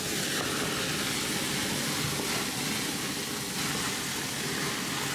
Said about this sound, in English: the pineapple one is sizzling big time.